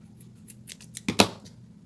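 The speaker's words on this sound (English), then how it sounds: "I'm just going to trim away a bit of it." A few quick scissor snips close by trim the tail of a metal zipper, building to two sharper cuts near the end, in an otherwise quiet room.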